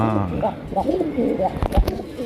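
A Rajgolla pigeon coos in a few soft, low rolling calls close by, with a sharper rustle or flutter near the end, while someone talks over it.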